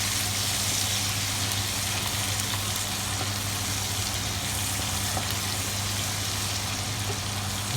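Food sizzling in a pan, with paprika and a stir, gives a constant dense hiss of frying over a low steady hum, unchanging and close throughout, with no talking.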